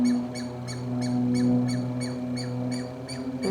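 A bird repeats a distress call, a regular series of short, high chirps about twice a second. They sound somewhat distant over a steady low hum.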